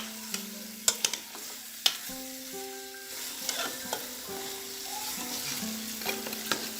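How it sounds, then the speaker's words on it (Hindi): Bone-in meat fries in masala for nalli nihari. A ladle scrapes and clinks against the pot in irregular strokes over a constant sizzle, and a steady low hum runs underneath. "5 मिनट तक हम इसको मसाले में फ्राई करेंगे।"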